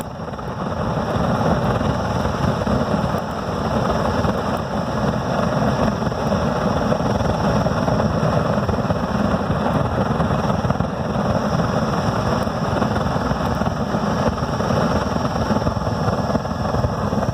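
A homemade oil burner built from an old Freon tank roars loudly and continuously as air blows hard through it, a dense steady rumble with no talk over it.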